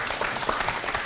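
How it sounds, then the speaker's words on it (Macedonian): Studio audience applauds to encourage a young girl about to sing on a television show; dense, steady clapping fills the whole moment at moderate volume with no voices over it. "Еден аплауз да охрабриме нашата другарка"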